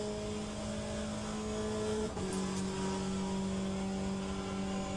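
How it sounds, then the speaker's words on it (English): Porsche race car engine in the Le Mans Ultimate sim, a steady loud drone holding one pitch, then shifting down a gear midway and droning on, with no talk. "the Porsches are always sounding quite heavenly"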